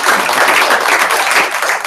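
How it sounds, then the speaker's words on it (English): Applause from a sales meeting audience for partner companies, steady dense clapping at close range that holds throughout and thins slightly toward the end. "So give them a nice round of applause"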